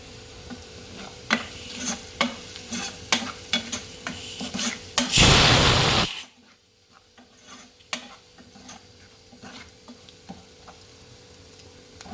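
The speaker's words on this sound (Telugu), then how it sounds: "ఇప్పుడు మళ్ళీ దీన్ని ఒకసారి కలపండి" Lentil curry with split green gram, turmeric and chili powder stirred in a pan: repeated scraping spoon strokes in an uneven rhythm, with a brief loud sizzling burst midway, then softer scattered stirring.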